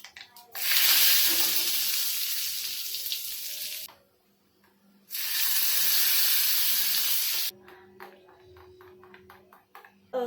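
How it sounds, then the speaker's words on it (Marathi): Tempering spices are tipped into hot oil for cooked dal and sizzle loudly in two strong bursts of a few seconds each, with a short quiet gap between them and faint clinks afterward. "फोडणी टाकून घेऊया"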